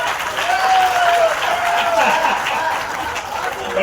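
Applause from the audience at a Hindi comedy and parody poetry show in Indore, steady loud clapping mixed with crowd murmur and a few chuckles for a few seconds, with a voice briefly heard over it.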